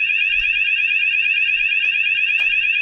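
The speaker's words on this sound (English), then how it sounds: "press this button, sounder will go, and now both sounders are going" Two Luminite NEXUS wireless alert sounders blare together, a loud, steady, piercing electronic alarm tone warbling continuously without a break.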